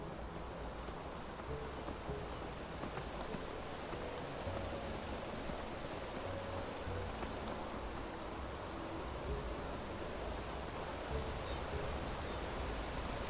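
Steady, even rain hisses across the landscape of the fantasy game Enderal: Forgotten Stories, a dense, faint wash that holds on without pause.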